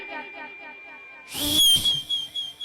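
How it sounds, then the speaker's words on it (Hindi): A man blows a sharp, high signal whistle as a cue, one loud burst that warbles and holds steadily before stopping, following a stretch of tonal background music. "जब नाना सीटी बजाए"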